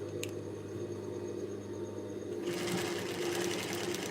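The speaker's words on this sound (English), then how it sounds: "we're going to sew the darts first before sewing the main top" A sewing machine stitches darts into a white cotton top. A steady mechanical hum runs close and continuous, then the needle's rapid stitching rattle kicks in halfway through and carries on to the end.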